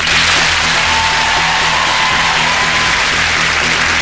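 A studio audience on The Cube cheers and applauds loudly, a continuous dense wash of clapping and whoops that holds steady from start to finish with no pause.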